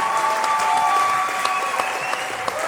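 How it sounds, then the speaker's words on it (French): Studio audience applause on a French-language comedy show, a steady, loud spread of clapping throughout with a faint tone running beneath it. "On peut applaudir."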